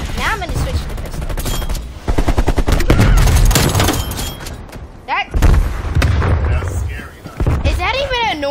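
Pistol fire in Call of Duty Black Ops, loud rapid shots in quick bursts mixed with other in-game sounds, while a person talks over the action.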